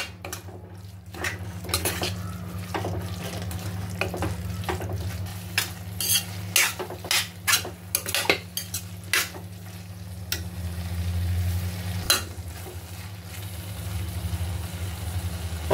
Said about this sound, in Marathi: दोन मिनिटं आपल्याला हे सर्व मिश्रण असंच परतत राहायचं आहे.